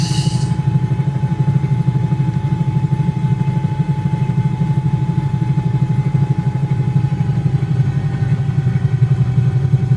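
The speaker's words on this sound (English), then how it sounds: "Right, so engines to idle." Bell 222B helicopter engines idling in a flight simulator, a loud steady droning hum with a fine rapid pulse and a thin constant whine, no talk.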